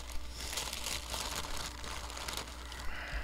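Plastic bag crinkling and rustling as a mail-call package holding a comic book in a Gemini-style sleeve is opened, with soft continuous crackles and small tearing sounds, fairly quiet and close.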